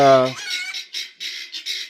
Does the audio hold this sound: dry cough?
no